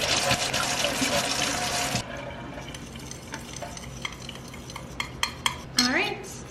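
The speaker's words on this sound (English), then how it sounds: "I have my baking soda, and then mix a teaspoon of water." Baking soda and a teaspoon of water stirred into a paste in a bowl, with a steady scraping swish for the first two seconds, then scattered soft clinks and taps of utensil against the bowl.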